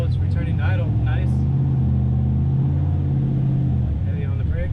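A turbocharged Chevrolet Silverado engine on a dyno settles back to a low, steady idle rumble, loud and close, with a brief voice over it at the start.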